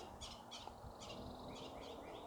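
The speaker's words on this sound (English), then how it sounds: "A couple of blackbirds having fun." Several harsh, repeated blackbird calls in quick succession, fairly faint, over a noisy backyard background.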